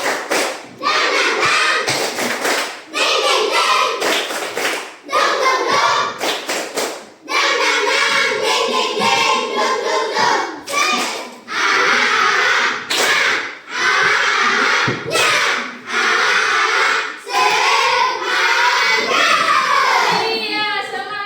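Children clapping a lively rhythmic chant in a classroom, with loud, sharp claps in rapid patterned bursts, broken by short pauses, and voices chanting along.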